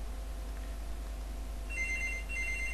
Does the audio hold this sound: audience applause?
no